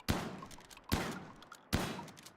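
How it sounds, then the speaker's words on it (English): Three evenly spaced gunshots in the colony-survival game Rimworld, each a sharp punchy crack that decays quickly, heard alone without talking. "You're literally just shooting the wall."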